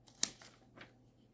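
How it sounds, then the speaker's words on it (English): A comic book page turns with a quick crisp paper snap and a softer rustle after it, close and quiet, with no one speaking. "Let's see if we can get this other page turned here."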